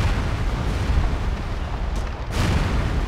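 Artillery fire in the video game Theatre of War forms a dense, continuous rumble of booms and blasts, loud and sustained throughout, with a brief dip in the middle before the barrage resumes at full strength.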